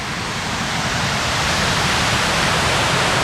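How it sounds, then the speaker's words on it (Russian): Sultan waterfall on the Dzhily-Su road in the Caucasus: a steady, dense roar of falling water, loud and close, with no other sounds. "И вышел к водопаду."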